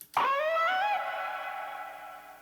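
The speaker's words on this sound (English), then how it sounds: "I like this preset actually by Ableton, which is it's a reverb preset." A single struck guitar note rings out, washed in a long, spacious reverb tail from Ableton's Vocal Hall preset that slowly fades over a couple of seconds.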